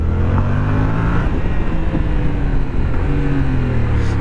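A restricted Yamaha MT-07 motorcycle accelerates hard in second gear, its engine a loud, close, continuous drone with steady harmonics and no talking over it.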